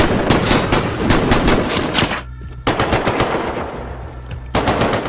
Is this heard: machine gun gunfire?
yes